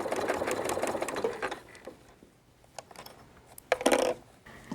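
A sewing machine runs an applique stitch on a Mother's Day table runner, its fast mechanical whir loud for the first second and a half, then easing into quieter, intermittent bursts with a short, louder run near the end.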